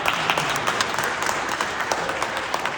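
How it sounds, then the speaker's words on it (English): An audience claps warmly after a Hall of Fame coach mentions nearly 60 years of marriage to his wife in the crowd. The applause is full and close, with sharp individual claps standing out. "That could take a clap."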